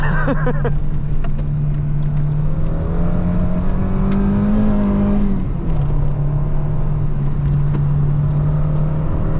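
A Peugeot 309 GTI 16 accelerates hard, its loud, close engine note climbing steadily, dipping briefly at a gear change, then pulling on again.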